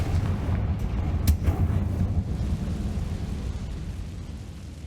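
Fire spell explosions in Hogwarts Legacy, set in a decayed catacomb, roll out as a continuous heavy rumble with one sharp crack near the start, loud and dense with no talking.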